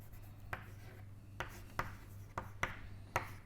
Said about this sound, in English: So, let me write the glucose structure.